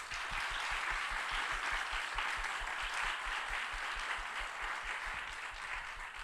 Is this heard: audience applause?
yes